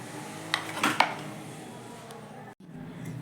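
A knife cuts pumpkin into small pieces, with a few crisp chopping clicks against a board, close and moderately loud, followed by a brief dropout and quiet room tone.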